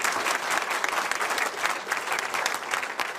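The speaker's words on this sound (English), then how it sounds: "Let's give all the 6A's a round of applause." An audience at a water product presentation applauds in a full, continuous round of clapping, loud and even for the whole stretch without any speech.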